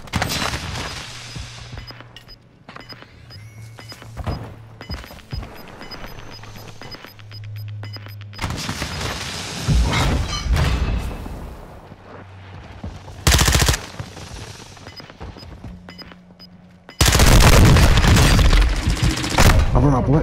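Video game gunfire in a competitive ranked match with thermite and a flag objective, heard as loud broadband bursts of rapid shots in clusters, the heaviest volley near the end, mixed with ongoing talk.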